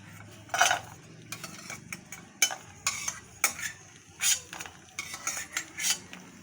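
Fried cashews scooped out of a pan, a string of close metallic scrapes and clinks of a spoon against cookware in uneven bursts over a faint background sizzle.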